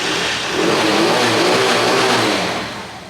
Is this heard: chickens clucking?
no